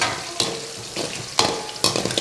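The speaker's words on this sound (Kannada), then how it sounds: "ಮೆಣಸಿನ್ಕಾಯು ಫ್ರೈ ಆಗುತ್ತೆ," Green chilies fry in hot oil in a pan for South Indian chitranna, a steady close sizzle broken by three sharp scraping stirs.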